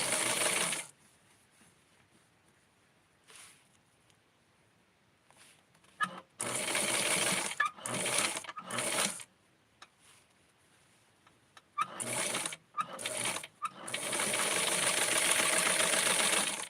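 A sewing machine stitching a small doll pattern runs in several bursts of rapid mechanical whirring and clatter, separated by quiet pauses, with a longer continuous run at the end.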